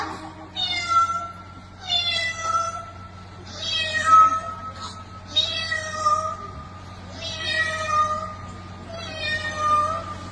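A voice imitates a cat, giving a series of drawn-out meows in a steady rhythm, about six calls with short pauses between them.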